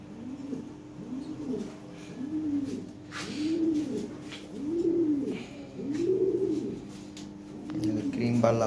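Red, grizzle-bar, blue-bar and black Lahori pigeons coo in a steady rhythm, about seven rolling coos at roughly one-second intervals, close and clear with faint chirps in the background.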